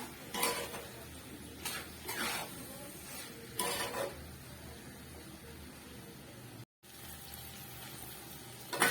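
A spoon works through prawn curry with green chillies and coriander in a pan, giving a few faint, intermittent scraping strokes over a quiet simmer, with a brief dropout near the end and no talking.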